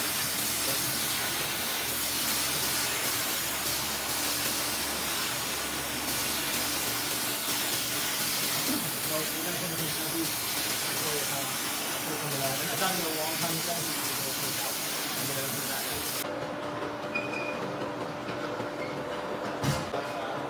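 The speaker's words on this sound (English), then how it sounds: "we're gonna put it in the centrifuge at this point" A rug-cleaning centrifuge spins dirt and water out of a freshly rinsed rug, giving a loud, continuous rushing hiss with a mechanical drone. Near the end the tone shifts and the high spray dies away.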